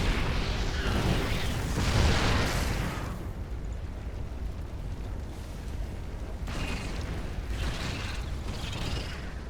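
A forward expansion building burns in a StarCraft 2 Zerg versus Terran match, a broad rumbling crackle with a heavy burst early on, then a steadier mechanical roar with fresh flares toward the end.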